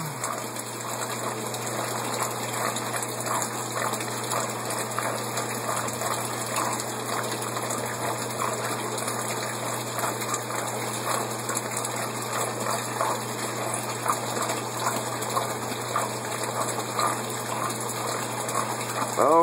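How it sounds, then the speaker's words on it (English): Water gushes and churns steadily as a pump runs and a siphon bell drains the tank, a continuous rushing flow close by with no break, and no voices. "This bell will suck all the water down, despite the fact that is going to continuously pump in water."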